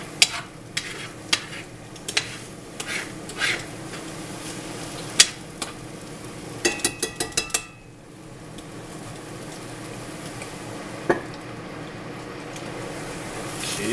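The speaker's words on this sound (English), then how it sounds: "Keep it, stirring it. You don't want it to stick." Vegetables sizzle steadily in a single pan while a utensil stirs them with repeated sharp scrapes and clicks against the pan, close and with no talking.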